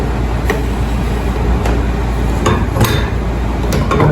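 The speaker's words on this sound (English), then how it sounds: "I'm going to adjust my vise inward." A bench vise holding a rifle barrel and scope assembly is cranked inward, with sharp metallic clicks and clanks at irregular intervals over a loud, steady background noise.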